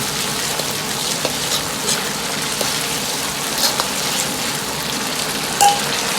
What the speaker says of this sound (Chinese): 下锅先静止3秒钟，再用勺子推散，炒至稍微定型